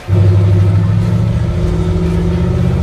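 A shop truck's engine idles with a steady low rumble, close and continuous, holding an even drone for a few seconds with no voices over it.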